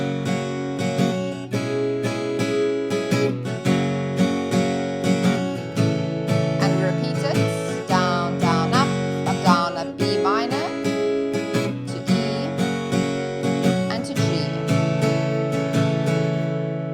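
An acoustic guitar strums the chorus of a song in a simple easy version, with steady rhythmic strokes and chord changes, played close and alone for the whole stretch.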